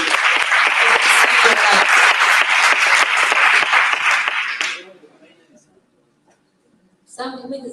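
A congress general assembly audience claps loudly and steadily for several seconds, then the applause fades into near silence before a voice begins speaking.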